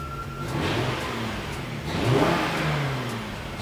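Lexus GS300 engine revving through a rusted stock muffler, a steady mid-pitched drone that swells to a louder rev near the middle before settling, heard close with no talking.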